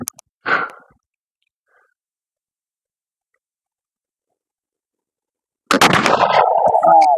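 A muzzleloading rifle, a TVM Yager or a Pedersoli Indian trade gun, fires once with a sharp, loud blast that breaks a stretch of silence, after a brief small knock.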